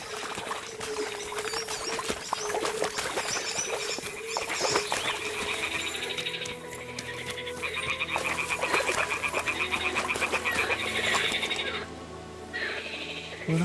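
Toads in the Kingdom Come Deliverance 2 video game croak continuously in a dense, rattling chorus, loud and close, with layered calls overlapping for the whole stretch before a brief lull near the end.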